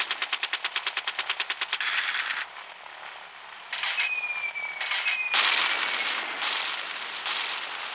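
Minigun fire from a gunship in a video game, a rapid rattling burst at first, then longer sustained roaring stretches with a sweeping whine, loud and close, no talking.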